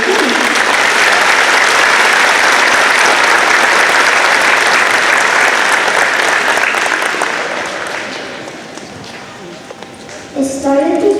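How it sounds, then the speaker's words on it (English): An audience at a school K-4 Christmas program claps loudly and steadily, a dense wash of applause that fades toward the end before a brief burst of other noise. "can we please give a warm round of applause to our students as they begin."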